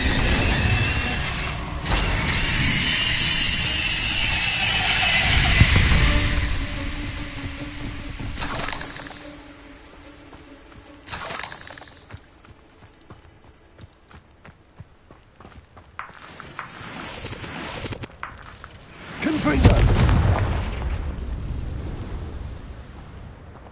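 Fire spell cast in Hogwarts Legacy, a loud whooshing burst with crackling and impact noises among other spell effects, surging again near the end.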